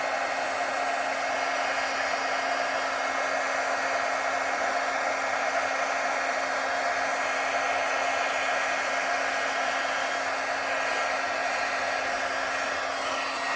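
A heat embossing tool blows hot air onto embossing powder on paper, giving a loud, steady whirring fan roar with a constant hum throughout and no talking.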